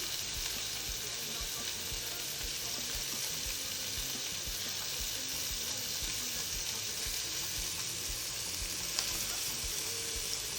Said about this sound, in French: on va bien répartir la viande sur toute la surface de la poêle. Et après, on va le laisser